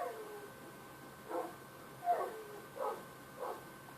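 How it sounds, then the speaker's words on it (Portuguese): Minecraft dogs whimper and yip faintly in the game, about four short, quiet whines spaced roughly a second apart over a low background. "Os meus cachorros estão tudo ali em cima."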